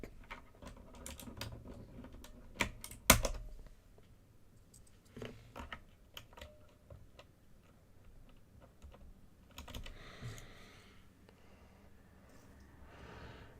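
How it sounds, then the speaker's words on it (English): Computer keyboard with a faulty spacebar, clattering in uneven bursts of close keystrokes with pauses between them and one sharp loud key hit, no voices. "Literally, I just fixed this keyboard, and of course the backspace doesn't work right."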